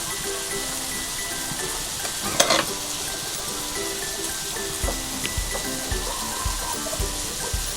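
Tomato and onion sauté in a pan, giving a continuous close sizzle with occasional scraping stirs and one brief clatter of a utensil, without talk.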